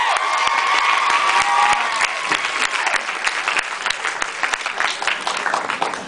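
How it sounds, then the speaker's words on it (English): A lively show audience claps and cheers loudly, with whoops and shouts rising over dense applause early on, then settling into steady clapping with scattered distinct claps near the end. "please clap."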